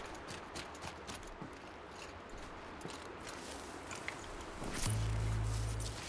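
Hoofbeats of horse-like machines in the Horizon Zero Dawn video game clop faintly in an irregular walking rhythm, followed by a louder low rumble near the end.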